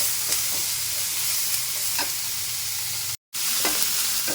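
Onion frying in a pan with a little salt, a soft continuous sizzle with occasional stirring scrapes, fairly quiet, briefly cut to silence near the end.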